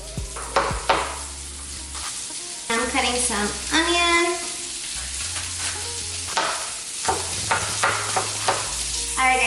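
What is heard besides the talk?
chicken sizzling while frying in pan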